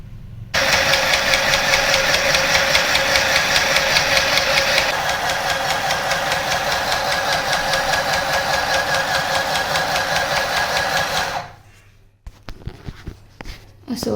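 A semi stitching machine hums and rattles loudly and steadily for about ten seconds while it fills thread. It then winds down and stops, leaving a few faint clicks.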